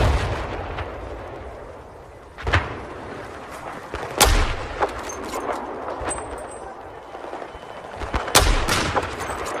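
Mortar rounds and gunfire in the video game Battlefield 4, with sharp explosive booms and rattling shots bursting irregularly over a constant battlefield rumble, while players talk underneath.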